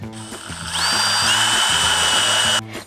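A power drill drives screws into a compost bin, the motor whining steadily for about two seconds at close range before stopping abruptly.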